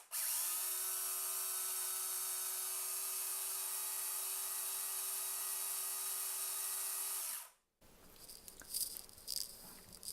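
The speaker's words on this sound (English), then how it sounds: "I'm just going to hold the wires on the terminals on the motor. This is loud, so hold on to your ears." A small battery-powered electric motor, its wires held to the terminals, runs with a loud, steady high-pitched whine for about seven seconds before cutting off abruptly, followed by quieter handling noise.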